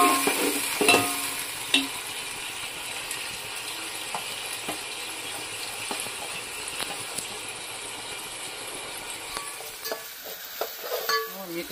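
Onion and tomato fry in hot oil in a pan, giving a steady, moderate sizzle with occasional stirring scrapes and clinks throughout.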